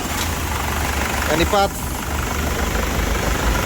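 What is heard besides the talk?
Nissan Frontier YD25 engine running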